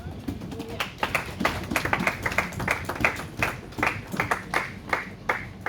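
A church congregation claps in a fairly quick, uneven rhythm, with many hands close by and continuing steadily, and some voices faintly mixed in.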